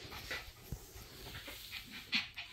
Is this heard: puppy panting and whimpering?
yes